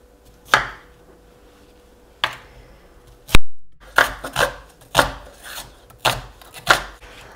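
A knife chops a soft, slightly wilted cauliflower into pieces on a cutting board, about nine sharp separate thwacks in an uneven rhythm, close and clear with no talk.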